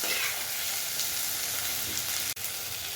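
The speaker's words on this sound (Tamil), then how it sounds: "இப்போ நல்லா தக்காளி நல்லா வதங்கிருச்சு" Tomatoes sauté in a hot pan for an anchovy fish curry, a steady close frying hiss that drops out for an instant near the end.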